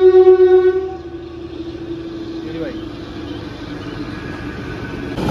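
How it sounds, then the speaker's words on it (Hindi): Shimla toy train passing just below a hillside house: a loud horn blast at the start, then a steady rumble of the passing train throughout. "ये टॉय ट्रेन शिमला से आ रही है भाई"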